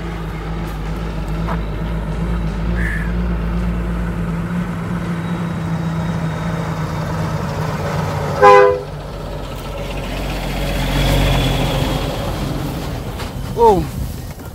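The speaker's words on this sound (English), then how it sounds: "Me hear a next trucker" A truck passes on a rural road in St Thomas, Jamaica, rising over a steady rumble of traffic and ambient noise, with two short horn blasts sounding at a moderate distance.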